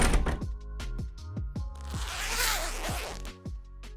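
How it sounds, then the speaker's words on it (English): Fabric is handled while an invisible zipper is attached to the center front edges of a princess-line dress. There is a run of sharp, close clicks and ticks, then a softer rustle. "Attach an invisible zipper to the center front edges."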